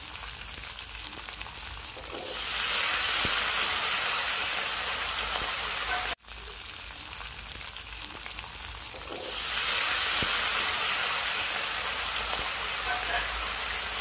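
Winter vegetables dropped into hot oil in a pan give a loud, steady frying sizzle that swells suddenly twice, with brief stirring clatter and a short break between the bursts.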